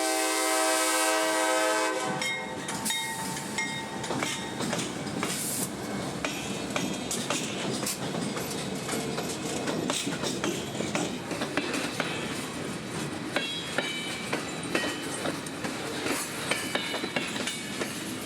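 A CSX freight train passes close by, an EMD SD70 Mace locomotive trailing second, number 4586, on the Brooksville Subdivision. A sustained horn blast opens, then a continuous loud roar and rattle of cars and wheels rolls on steadily.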